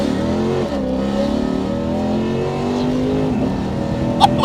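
A 2008 Lexus IS F engine revs with a rising and falling mid-pitched roar, steady and fairly close, with no clear talking over it.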